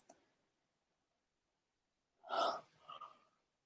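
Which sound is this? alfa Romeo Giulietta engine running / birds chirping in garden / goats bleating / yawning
yawning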